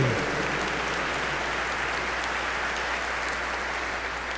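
Audience applause after a musical piece at a French-language gathering in July, steady dense clapping that fills the clip from start to finish at even loudness, with no voices over it.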